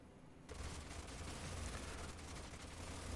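Continuous volley of gunfire in the sci-fi strategy game Age of Wonders: Planetfall, starting abruptly after a quiet moment and rolling on as a steady, faint rattle of shots with no voices.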